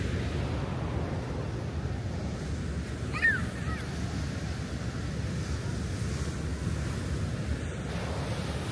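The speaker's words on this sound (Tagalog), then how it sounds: "tapos ang sarap pakinggan ng sound ng dagat" Steady ocean surf rolls continuously with gusty wind buffeting the microphone at Huinnyeoul Culture Village, a broad constant wash with no voices.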